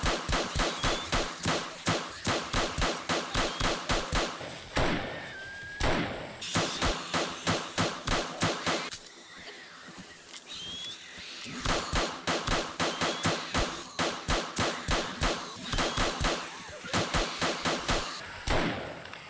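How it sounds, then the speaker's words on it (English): Marksman rifle fire in the game 7 Days To Die at a snow fort under zombie attack: loud, rapid, evenly spaced shots in long strings, pausing briefly before resuming. "See how many kills we can get with this marksman rifle."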